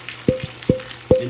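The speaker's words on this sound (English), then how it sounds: "You're just adding your mixture of egg and spaghetti" Egg and spaghetti mixture hits a hot pan with bacon fat, giving three sharp sizzling bursts about half a second apart over a low steady hiss, close by with no voices.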